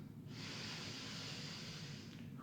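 Steady, continuous deep breath held in a yoga assisted bridge pose, a soft broad airy rush that swells and holds for about two seconds, close and alone with no talking.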